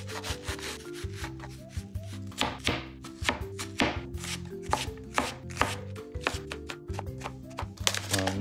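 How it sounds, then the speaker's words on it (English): Knife mincing onion on a cutting board for a venison stew, a quick run of sharp, steady chops close up, repeating in bursts with no talking. "next, the onion. Gonna mince these."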